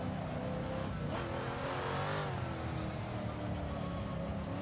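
Straight-cut gears whine on a 1960s race car at Goodwood, a high mechanical howl that rides over a loud, steady engine roar close by as the car accelerates, with no talk.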